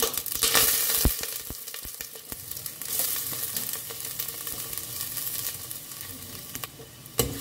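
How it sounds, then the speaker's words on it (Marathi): A small chopped onion sizzles steadily in a few spoonfuls of coconut oil in a pan, with close stirring scrapes and clinks breaking through the continuous frying hiss. "तो मातसो कांदो न्ही हांव 1-2 मिनटां एका फ्राय करून घेता"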